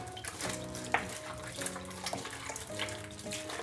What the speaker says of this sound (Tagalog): Haluin na natin ngayon to.